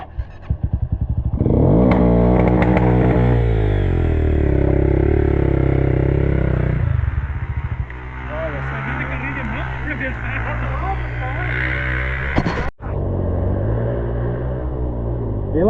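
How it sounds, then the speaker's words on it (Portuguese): A prepared trail motorcycle revs hard and loud on a muddy, rainy track, the engine surging and straining, then dropping to a rougher, choppier rev as it struggles forward, with people talking and shouting over it. "Ó, a moto dá um passo pra frente."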